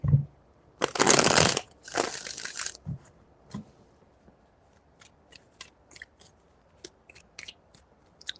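Tarot cards being shuffled close by: two dense, crisp riffling bursts at the start, then scattered light taps and soft card slaps spread across the rest.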